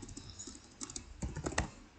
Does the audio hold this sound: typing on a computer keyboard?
yes